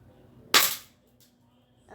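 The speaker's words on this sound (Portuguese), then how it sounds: "Último disparo." An airsoft gun fires a single sharp crack at a target outdoors, close and loud, followed by a faint tap and low background hum.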